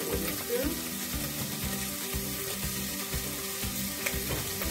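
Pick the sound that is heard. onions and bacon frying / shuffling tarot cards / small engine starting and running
onions and bacon frying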